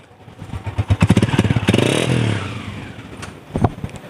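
A standing 2022 Honda 125 motorcycle with a soft throttle idles in quick pulses, then surges through a smooth rev that swells and fades back, loud and close, with a couple of clicks near the end.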